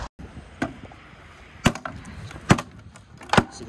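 Wooden junk is broken apart during a junk removal job, with four sharp cracking, splintering impacts spaced out over a low background hum, fairly close.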